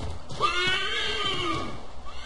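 A horse in Assassin's Creed 3 lets out one drawn-out whinny, rising and wavering before trailing off, with faint hoof clops beneath.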